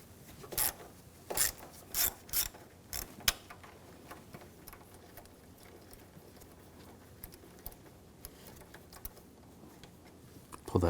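A socket ratchet works a 10mm bolt on the engine of a 2007–2013 BMW X5 3.0L inline-six during valve cover removal, giving a few sharp clicking strokes early on, then quieter scraping and occasional taps, close up.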